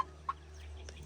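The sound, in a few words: chickens clucking in a coop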